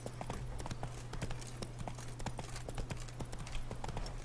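Horse hooves clip-clop steadily in The Witcher 3, a Hearts of Stone wedding episode, with irregular knocks over a constant low hum and game ambience, no talk.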